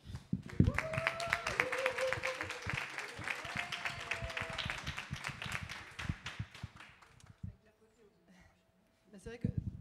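Applause rises at a mental health plenary assembly of the CLSM Épinay-Pierrefitte, with dense clapping for about seven seconds mixed with voices, then it thins out to a few scattered claps near the end.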